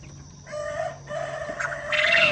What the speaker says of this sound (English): Chickens are crowing.